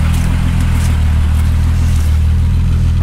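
Engine of a unique car fitted with a swapped engine, idling and revving with a slight knocking fault; loud, steady low throb with a pulsing rhythm, close to the microphone and without speech.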